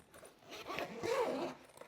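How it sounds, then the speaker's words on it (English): Zipper on a lightweight hardshell luggage suitcase, a single smooth pull lasting about a second, close and fairly quiet, with a soft scrape as it finishes. "Zippers are nice and smooth."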